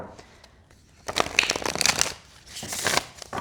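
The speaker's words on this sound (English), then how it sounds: "I really feel like if I shuffle them this way, I'm going to destroy them." A tarot card deck being shuffled by hand, with rapid flurries of crisp riffling and slapping card noise in two bursts, close and fairly loud, with no talking.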